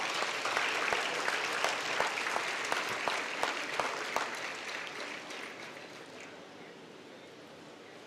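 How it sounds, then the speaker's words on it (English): Audience applause for awardees at an awards ceremony, a burst of dense clapping with a few sharp individual claps standing out, gradually thinning and fading toward the end. "Big applause for this awardees also."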